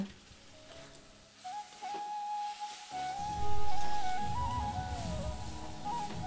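A paste of red chilli, ginger and cumin with chopped tomato sizzles in a pan, with a steady hiss that grows louder midway and carries on under a thin whistling tone.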